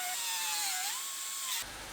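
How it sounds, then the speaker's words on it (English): A power drill bores out welds on a damaged 2018 GMC Sierra Denali truck body panel, a steady high whine that bends in pitch as it cuts, then stops abruptly near the end. "We'll drill everything out"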